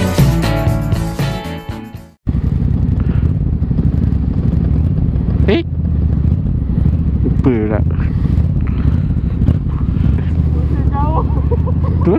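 A TVS Apache RTR 200 4V motorcycle engine runs and revs close by while riding, with wind buffeting and a brief cut near the start; a few engine pitch changes rise and fall.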